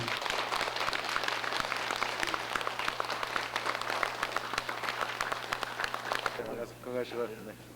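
A crowd claps steadily to welcome a pastor arriving at a Korean civic gathering, a dense continuous patter that fades near the end as a voice begins speaking.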